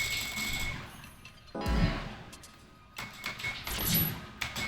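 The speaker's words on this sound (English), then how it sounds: "I like these menu noises" Menu sound effects in the video game Street Fighter 6 play in bursts: a bright chime, a deep whooshing thud, then crisp clicking confirm sounds over a quiet musical hum, loud and close, without talk.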